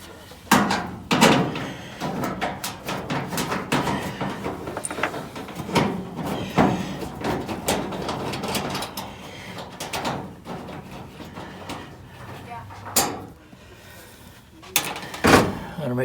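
Electric dryer door being opened and closed outdoors in a park during a repair, giving repeated sharp knocks and clunks spread over the clip amid background rustle.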